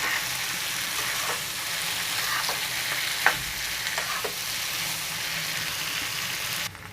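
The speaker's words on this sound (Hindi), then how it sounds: "बीच बीच में इसको चलाते रहेंगे" Mixed vegetables cook in a pan with a constant dense sizzle, and a spatula stirs them now and then with light scraping taps, one louder knock in the middle, close by and without speech.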